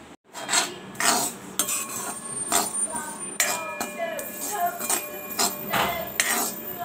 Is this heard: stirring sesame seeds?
yes